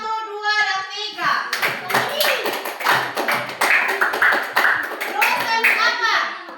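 Schoolchildren in an Indonesian classroom clap their hands in a lively, rhythmic burst, the close claps mixed with excited children's voices throughout.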